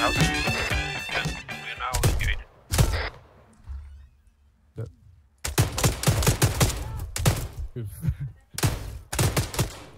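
Rapid, loud shotgun blasts in a tactical shooter set in Somalia ring out in dense bursts, some shots spaced and some clustered, with players talking in between.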